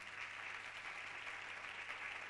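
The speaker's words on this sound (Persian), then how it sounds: "تشویق بفرمایید." An audience at a music school concert applauds, a steady, evenly dense wash of clapping heard from a distance and fairly faint.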